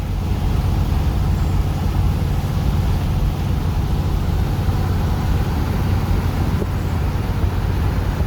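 A 1978 Ford F150 truck engine runs in a loud, steady, low rumble that holds unbroken throughout, with a dense broadband roar and no talking.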